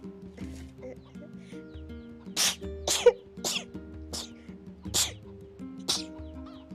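Several sharp, sudden bursts of sneezing come a few times in a row over a room with faint background tones, with no talking.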